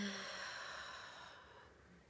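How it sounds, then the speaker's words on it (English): A slow, soft exhale during a guided meditation at a Guadalupe Novena opening ceremony, a breathy sigh close by that fades out over about two seconds. "let's begin by taking some nice cleansing breaths"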